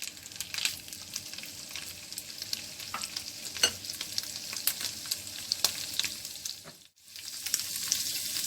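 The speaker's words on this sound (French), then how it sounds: "Je les fais cuire pendant 2 à 3 minutes." Shrimp frying in a pan for a cucumber-free avocado and grapefruit salad prep, a steady close sizzle with crackling pops and stirring scrapes, briefly dropping out near the end before resuming.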